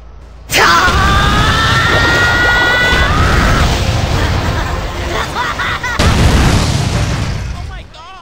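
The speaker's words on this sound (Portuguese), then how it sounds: "Como vocês podem ver, é muito grande as explosões desse Super Resengan" Large explosions from the Super Rasengan attack in a jutsu mod for the video game GTA San Andreas, loud booming blasts and crashing that start suddenly and roll on continuously, with a second burst near the end.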